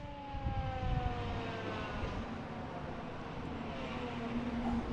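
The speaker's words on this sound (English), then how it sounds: "I'm hearing all these ambulances." Wailing ambulance sirens near Boston Logan International Airport rise and fall with a slow sweeping pitch over a loud, constant rumble of traffic and airport noise.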